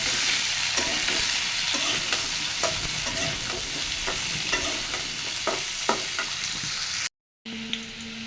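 Sweet pumpkin pieces fry in oil in a kadai with turmeric and salt, giving a steady, close sizzle broken by repeated stirring scrapes and a brief silence near the end.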